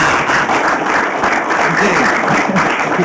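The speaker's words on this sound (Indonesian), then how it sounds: "Tepuk tangan untuk maestro kita ini tadi." A large audience gives loud, dense, continuous applause for a violin maestro at a televised show, sustained without a break.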